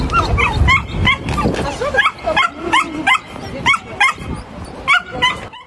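Many dogs barking and yipping at a crowded outdoor dog show beside a residential building, overlapping barks and whimpers repeating steadily with people talking underneath.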